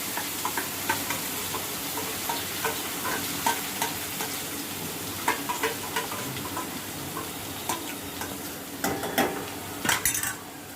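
Ground masala paste frying in hot oil for a pan of vegetable curry, a continuous close sizzle with frequent spoon scrapes and clinks on the pot, busier near the end.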